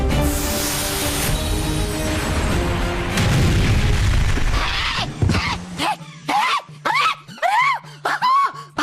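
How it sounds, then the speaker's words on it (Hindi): A long rumbling blast from a TV fantasy show explosion with a roaring tail fades out, then several short excited voices speak loudly over a low hum. "ये आक्रमण नहीं, ये धमाकों की आवाज है।"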